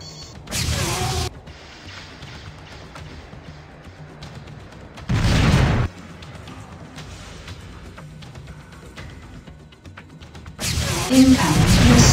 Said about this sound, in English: Shield failed. Incoming missile.